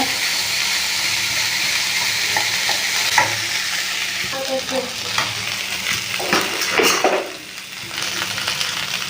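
Leftover biryani being stir-fried on high heat, a strong, close sizzle with scraping and stirring strokes from a spatula, easing slightly toward the end, with no speech.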